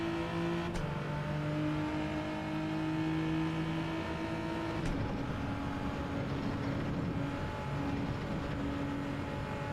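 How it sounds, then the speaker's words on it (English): A turbocharged car accelerates in Gran Turismo 7, its engine note rising steadily in tone with gear changes and a brief break in pitch, loud and continuous throughout. "Still got to spool up that turbo."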